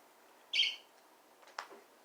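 A pet bird gives a single bright chirp, then a fainter short call a second later, close and clear against a quiet room.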